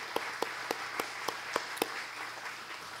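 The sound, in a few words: audience applause for fair sponsors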